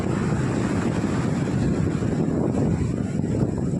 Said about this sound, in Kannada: ನೀರೆಲ್ಲ ಹೆಂಗೆ ಎರ್ಚಿ ಹೊಡಿತಾಯಿತ್ತು